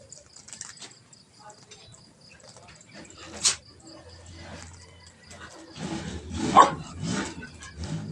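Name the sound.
dog barking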